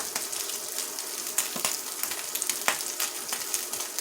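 Eggs sizzle and fry inside corned beef nests in a pan, giving a steady close crackle with scattered sharper pops and no talking.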